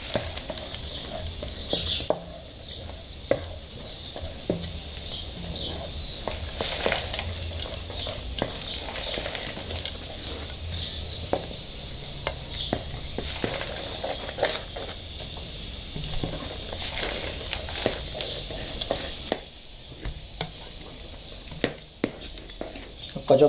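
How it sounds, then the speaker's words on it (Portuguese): Peanuts being stirred into cooking sugar for pé de moleque make soft, continuous scraping and bubbling with irregular clicks and taps of the spoon, at moderate distance and fairly quiet, with no voices. "Agora o ponto, nós vamos colocar o amendoim e mexendo"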